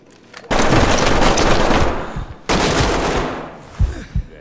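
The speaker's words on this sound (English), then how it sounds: "He's firing through the wall" Sustained automatic gunfire punches through a wall in the tactical shooter Ready or Not, in two loud, dense bursts separated by a brief lull, followed by a couple of isolated sharp shots.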